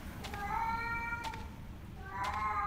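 Repeated cat meows in the horror game Tsugunohi, three drawn-out tonal cries spaced about a second apart over a low murky background, moderately quiet.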